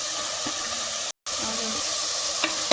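Onions frying in oil for a mutton keema curry, a continuous hiss and crackle close up, briefly cut to silence for a moment, then resuming with a few light taps near the end.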